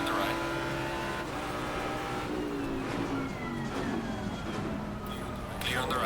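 Race car engine in the Assetto Corsa Competizione racing game, running steady with gear-shift pitch sweeps while following closely in another car's slipstream, a continuous moderately loud drone with someone talking over it.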